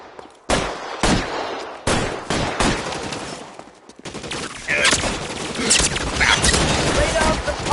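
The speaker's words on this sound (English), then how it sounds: "Lay down some covering fire." Gunfire in an L.A. Noire shootout: sharp, loud bursts of shots, first spaced single cracks and then denser rapid volleys, with voices shouting amid the firing.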